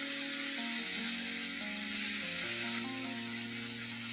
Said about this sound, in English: Now I'm going to add 2 tomatoes that I have finely chopped. And I'm going to make a nice gravy with this.